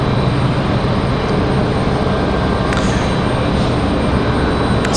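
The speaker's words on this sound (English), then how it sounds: "So we got a Piper Archer TX on final." A Piper Archer TX light aircraft on final approach at Raleigh-Durham International Airport makes a steady, loud, broad engine roar that stays constant throughout.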